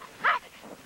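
A single short bark, moderately loud and fairly close, rising briefly out of quiet background noise during a 2003 snow blizzard.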